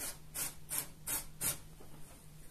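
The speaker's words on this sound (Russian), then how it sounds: "Следующий слой натираю морковь на крупной терке." Carrot rubbed over a coarse grater while layering a New Year salad, five soft rhythmic rasping strokes at an even pace, quiet and close with no talk.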